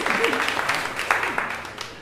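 A church congregation claps for mothers at a Mother's Day service, a short burst of applause mixed with a speaking voice over it.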